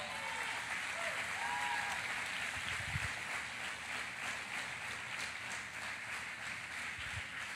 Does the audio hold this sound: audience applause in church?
yes